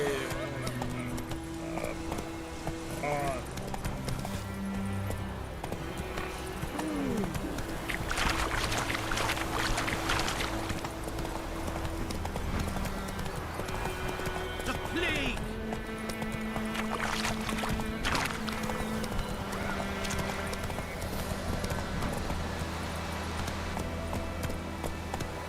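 Roach the horse runs in The Witcher 3, hoofbeats blending into a long stretch of music and ambient game sound, with occasional brief bursts of noise and a faint whinny.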